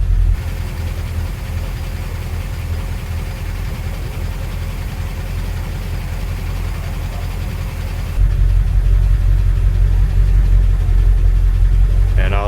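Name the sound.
1957 Dodge Power Wagon engine starting and running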